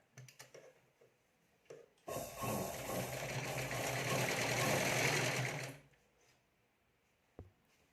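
A sewing machine runs a steady burst of about four seconds, stitching a folded fabric potli pouch. Before and after are a few faint handling clicks and rustles.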